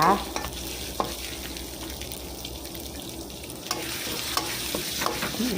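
Curry paste stir-frying in a pan for a fresh mackerel dish: a steady, moderately loud sizzle with occasional scraping strokes from a spatula, no talking.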